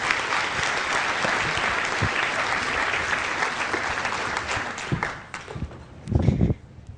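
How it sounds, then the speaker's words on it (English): Audience applause at a stage show as a volunteer is called up, a dense steady clapping that tapers near the end, then a brief louder burst of claps and cheers. "Give her a round of applause."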